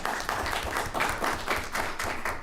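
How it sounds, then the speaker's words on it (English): An audience at a school board meeting applauds a student of the month, with steady, moderately distant clapping from a modest crowd running throughout. "Let's give Nick a round of applause"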